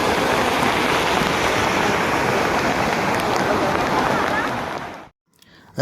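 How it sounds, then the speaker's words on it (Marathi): Heavy monsoon rain pours down at Raigad Fort in a dense, loud, unbroken roar, then cuts off abruptly just before the end. "जबरदस्त पाऊस पडतो आहे"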